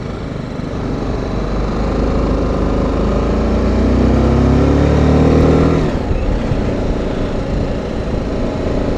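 A BMW G310GS motorcycle engine drones steadily while riding, rising in pitch as it accelerates, then dropping sharply as the rider shifts or rolls off, all loud and close with wind rumble.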